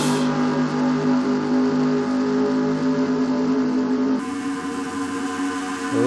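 Race cars in a NASCAR-style racing video game drone past in a sustained, loud engine roar with a steady whining pitch that shifts upward partway through, no voices over it.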